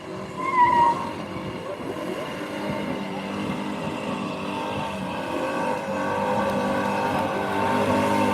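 A hot rod car roars through a sustained tire burnout, its engine and screeching tires blending into a loud, continuous rushing drone that swells slightly over time, with crowd noise in the background.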